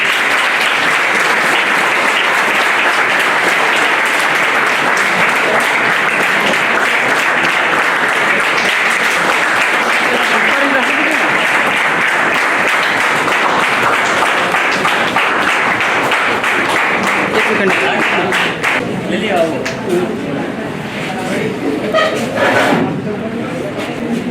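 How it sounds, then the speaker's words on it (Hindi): Audience in a hall at a ceremony honoring a successful exam candidate in Hazaribag, giving loud sustained applause, dense clapping that runs steadily and thins out toward the end. "आप लोग जोरदार ताली दीजिए।"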